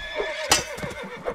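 A horse in a video game lets out a short, shrill whinny, with a few soft hoof clops around it.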